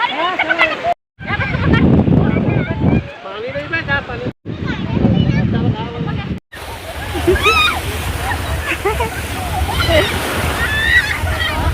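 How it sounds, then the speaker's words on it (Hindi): Waves splash and surge loudly and continuously at Satranga, Chhattisgarh, with water sloshing close by and several people talking and shouting over it. "लहर बहुत अच्छा आते।"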